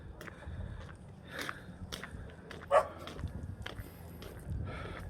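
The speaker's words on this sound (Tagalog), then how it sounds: "Daming aso." Dogs bark and yip along a cold early-morning street in Baguio, a few scattered sharp barks at mid distance over quiet street ambience, with one louder bark near the middle.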